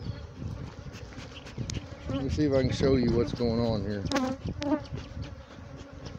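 Dense, steady buzzing of many honey bees swarming close by in a bee yard while a hive is opened, continuing under a voice talking.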